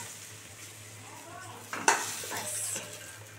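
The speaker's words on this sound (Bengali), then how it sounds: "দেখো একদম ভালো করে সুন্দর করে ভেজে নিয়েছি" Katla fish head frying in hot oil in a pan, a steady low sizzle with a sharp scrape or clatter of a utensil near the middle, followed by louder crackling.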